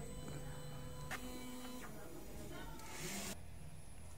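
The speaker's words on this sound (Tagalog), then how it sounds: "Next naman, nozzle check." A DTF printer runs a nozzle check, with steady mechanical hum, a sharp carriage click and a hissing, spray-like burst near the end, under a faint voice in the background.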